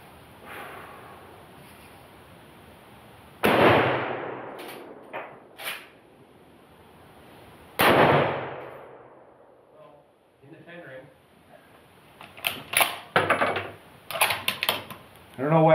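Two loud shots from a Bergara B-14 Wilderness Terrain 6.5 Creedmoor rifle fitted with an Area 419 Hellfire muzzle brake, each a sharp crack with a decaying tail, about four seconds apart, with people talking afterward.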